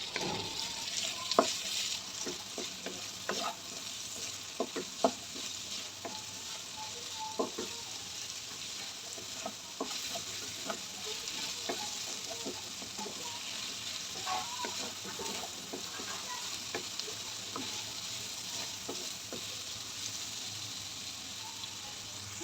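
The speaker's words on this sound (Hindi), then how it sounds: "इनको अच्छे से मिक्स करेंगे।" Potatoes with red chili, turmeric and salt are stirred in a pan, a steady sizzle running throughout while a spatula scrapes and taps in irregular strokes, close and moderately loud, with no talking.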